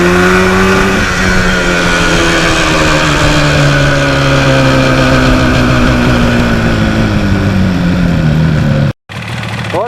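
A 1977 Yamaha RD400 two-stroke motorcycle riding along back roads, its engine droning loud and steady with pitch slowly falling as it eases off, close and continuous with wind rush, cutting out briefly near the end.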